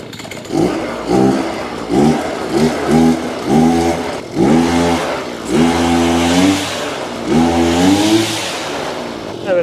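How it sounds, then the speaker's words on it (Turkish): Max Garden petrol brush cutter engine running with a warm two-stroke mix, a steady revving drone that rises and falls in repeated bursts, close and loud throughout. "Motoru çalıştırdık şu an."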